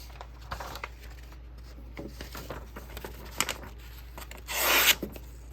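An Old Timer 5OT Bruin pocket knife slicing through a piece of paper, soft scattered rustles then one longer close rasping cut near the end over a low hum.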